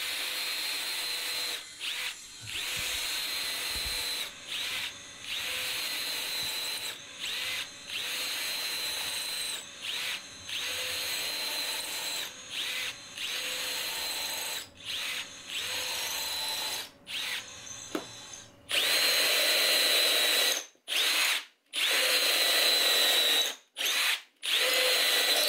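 A power drill bores straight down through wood held in a vertical drill jig centering locator, a steady loud whine broken by brief stops, growing harsher and louder near the end.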